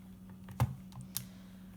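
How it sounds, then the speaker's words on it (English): A couple of isolated button presses on a calculator while entering numbers for a logarithm calculation, sharp close taps over a low steady hum, with no voices. "Now if we type this in our calculator"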